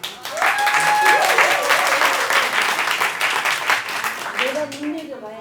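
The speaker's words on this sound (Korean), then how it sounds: "큰 박수로 만나 뵙겠습니다." Big audience applause at a youth speech contest in Gwangjin-gu welcomes the next speaker, a steady, loud wash of clapping with a voice talking over it at the start and again near the end.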